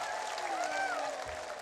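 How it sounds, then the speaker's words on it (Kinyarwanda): A congregation at a Rwandan church crusade applauds and ululates, a steady wash of clapping with high trilling ululation rising and falling over it throughout. "Mukomera amashyi menshi n'impundu nyinshi cyane."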